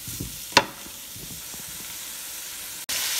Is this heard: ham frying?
yes